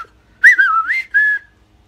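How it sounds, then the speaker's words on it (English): Someone whistles alone in a quiet room: a short, clear, close melodic phrase of sliding notes, a brief pause, then one held note. "Go watch my video of how to whistle like that."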